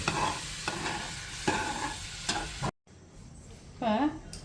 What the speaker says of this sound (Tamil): வெல்லம் ஃபுல்லாக தேங்காயில் அப்சர்வ் பண்ணுற வரைக்கும் நல்லா கலந்துக்கலாம்